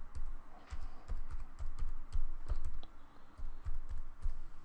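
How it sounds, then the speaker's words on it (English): Keys clatter in quick, uneven bursts as a website address is typed on a computer keyboard, close and clear, with brief pauses between clusters of clicks and no talking. "There you go, type my website in."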